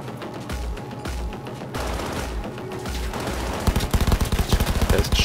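Automated turrets firing in Cyberpunk 2077, repeated bursts of gunfire at first spaced and rhythmic, then a rapid sustained fusillade of sharp shots near the end, loud and close.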